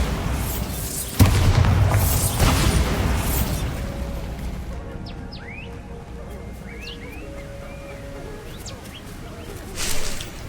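A Bombarda blasting spell detonates in Hogwarts Legacy, a loud booming burst that rolls into a rumbling decay, followed later by scattered bird-like chirps over a faint ambient bed and a softer thump near the end.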